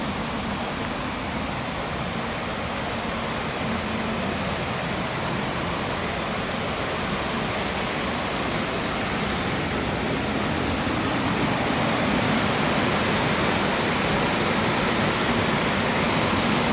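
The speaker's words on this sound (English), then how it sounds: "This is a river in Gauteng province." A river in Gauteng province rushes with a dense, unbroken roar of flowing water, loud and steady for the whole stretch with no voices.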